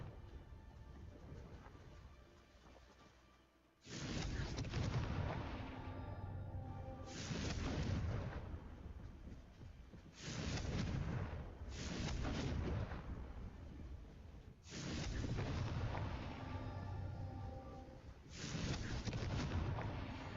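Blasting-spell explosions in Hogwarts Legacy, about six deep booming blasts that each swell loud and then fade into a rumbling tail, spaced a few seconds apart, with no talk.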